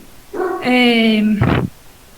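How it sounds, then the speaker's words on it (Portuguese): A dog at home lets out a single drawn-out, whining bark that rises into a yelp, loud and close, heard alone without talk. "meu cachorro latiu"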